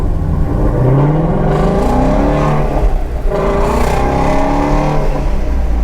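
Ford Mustang GT350 with a resonator delete, exhaust in sport mode, revs hard and close: a loud, rising engine note that swells, dips briefly, then climbs again in a second strong rev, with no talking.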